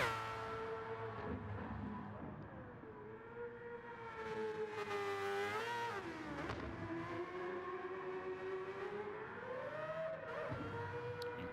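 A race car's rotary engine revs loudly with a high, buzzing whine, pitch climbing and dipping as it shifts, sustained throughout.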